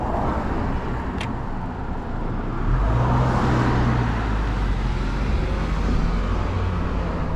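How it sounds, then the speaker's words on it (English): Cars pass along a road beside a bike lane, a steady traffic hum swelling into a louder, nearer engine rumble as vehicles go by. "we gotta wait for the cars to go by here"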